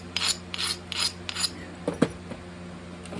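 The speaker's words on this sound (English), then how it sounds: "Let me grind this down." Stone being ground along the edge of a Dalton point in repeated rasping strokes, about four quick even scrapes followed by a few softer rubs, close and moderately loud with no talking.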